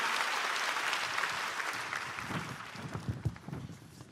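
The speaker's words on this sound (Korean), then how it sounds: "다시 한번 뜨거운 박수 부탁드립니다." A church audience at a Bible recitation contest awards ceremony applauds with dense, sustained clapping that thins out toward the end into scattered individual claps.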